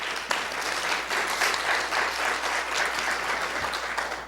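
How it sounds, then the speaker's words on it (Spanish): Audience applause at a conference on the Inter-American Court of Human Rights, a sustained dense patter of many hands that holds steady throughout, with no voices over it. "Por favor, un aplauso a Alejandro."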